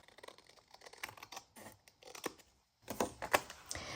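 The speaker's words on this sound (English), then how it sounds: "so I'll cut this one down" Paper being cut down to size for an accordion hinge bound junk journal, with a run of crisp, close snipping and rustling bursts, a brief quiet gap, then louder cuts near the end.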